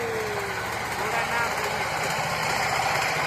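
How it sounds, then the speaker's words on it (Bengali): Motor boat engine on the Tentulia River among fishing boats, a steady loud drone with a rough low rumble holding throughout and building slightly as it draws near. "দ্রুত বেগে চলে আসছে আর একটা নৌকা আমাদের মাঝে।"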